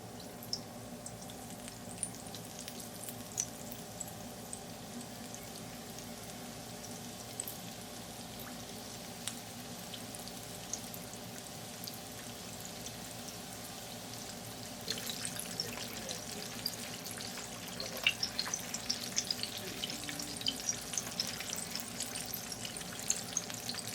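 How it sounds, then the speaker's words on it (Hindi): Prawn spring rolls deep fry in hot oil with a steady bubbling hiss that grows busier and crackles more sharply partway through, close and moderately loud. "अब फ्राई करेंगे।"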